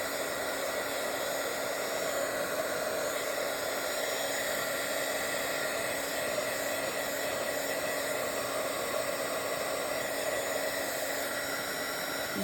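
A heat tool blows hot air to dry ink layers on a Bible journal page, producing a constant, even hiss and whirring drone with a faint steady hum and no talk.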